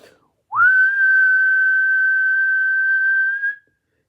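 A person whistles one long, steady high note of about three seconds in a quiet home, rising slightly at the start and fading at the end, with near-silence around it.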